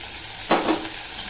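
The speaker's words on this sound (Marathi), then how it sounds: "बटाटा ही चांगला असा तेलामध्ये तळून घ्यायचा" Potatoes fry in oil with garlic for a spicy okra and potato dish, giving a steady, close hiss of sizzling throughout with one brief stirring scrape in the middle.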